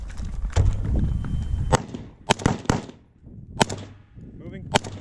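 Carbine gunshots at a low-light shooting drill, with about six sharp, loud cracks spaced irregularly over a few seconds, the range echo decaying between them.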